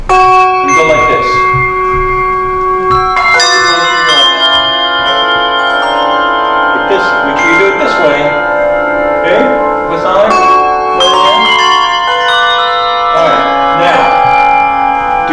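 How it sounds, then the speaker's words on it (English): Handbells rung one in each hand, bright sustained ringing tones overlapping in repeated strikes throughout, loud and close, with a voice speaking over the ringing. "I want you to take a bell in either hand, ring it, and go like this."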